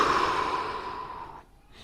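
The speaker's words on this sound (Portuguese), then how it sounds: "essa segunda inspiração, mantendo a costela fechada, ela vai ser uma inspiração mais curta" A short, braced inhalation drawn with the ribcage held closed, a single breathy intake lasting over a second before cutting off, close and fairly quiet with no talk.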